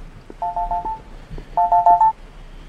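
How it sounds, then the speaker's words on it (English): A telephone in The Ripper Wash video game gives two clusters of rapid electronic ring pulses, four or five beeps each, separated by a short pause over low background noise. "Oh, here we go. Another phone call."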